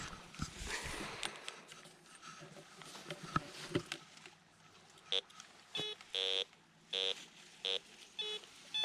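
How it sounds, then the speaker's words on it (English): A metal detector sweeps over cinders along an abandoned railroad spur track and sounds a series of short, regular electronic beeps on a buried hit, starting after some scuffling and handling noise. "We need to run the metal detector over it again."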